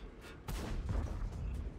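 Tank cannon shots in the World of Tanks video game: a low heavy boom near the half-second mark swells into sustained rumbling fire, with a quieter second burst toward the end, close and dense, with no talk.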